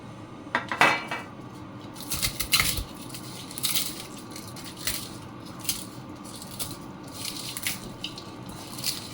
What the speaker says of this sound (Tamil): இப்போ இந்த மிளகா வத்தல், இந்த ஃப்ரை பண்ண பூண்டு, ஃப்ரை பண்ண வெங்காயம் எல்லாத்தையும் நல்லா கையில் ஸ்மாஷ் பண்ணணும்